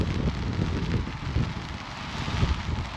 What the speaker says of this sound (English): Rain was in the forecast, and that's it, arrived.